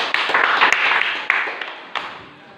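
Children in a classroom clap their hands together, a dense burst of close applause that fades away over a couple of seconds, with a few sharper isolated claps standing out.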